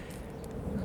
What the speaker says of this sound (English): what you're hearing is not a train. It is a C1. I think it's a C-130.